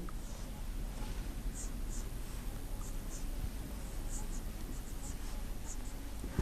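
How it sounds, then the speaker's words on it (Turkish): A pen or chalk scratches steadily across a board while a Turkish grammar lesson is written out, a continuous soft, close scraping texture with no clear breaks. "Evet ilk maddemizi şöyle yazalım."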